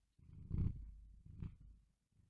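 Low, rumbling purring close up in two soft breaths, quiet and steady against near silence.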